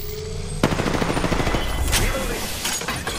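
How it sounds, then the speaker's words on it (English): Bursts of rapid gunfire crack out in an Apex Legends Season 8 match played as Fuse, a sudden volley of close, loud automatic shots with a faint voice underneath. "Opening fire on the enemy."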